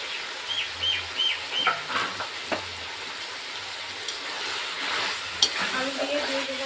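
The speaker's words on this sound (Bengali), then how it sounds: "এবারে দিয়ে দিচ্ছি আলু" Potatoes dropped into a pan of peas and spices, frying with a continuous sizzle and intermittent stirring scrapes, a few brief faint background sounds between.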